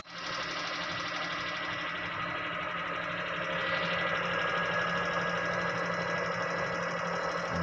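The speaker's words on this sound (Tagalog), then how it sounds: "So umandar na guys. So ito ang kanyang andar." A Suzuki F6A minivan engine idles just after a distributor cap replacement, a steady, close mechanical whir with a fast, even rhythmic ticking running throughout.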